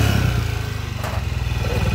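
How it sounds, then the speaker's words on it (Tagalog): Honda TMX 155 motorcycle engine with a knocking connecting rod idles close by, a rapid steady rhythmic clatter over a throbbing low chug. "Tunog connecting rod na mga kabro."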